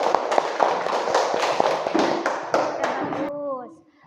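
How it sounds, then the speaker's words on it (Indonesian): A classroom of students applauds a presenting group with a run of crisp, evenly spaced claps in loose unison, nearby and fairly loud, stopping as a voice begins speaking. "Tepuk tangan untuk kelompok 2."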